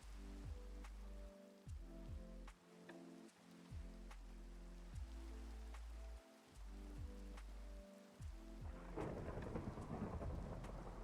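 Minecraft thunderstorm with lightning: repeated booming thunder cracks over steady falling rain, the rain growing heavier and hissing toward the end, no talking.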